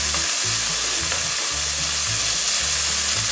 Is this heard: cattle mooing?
no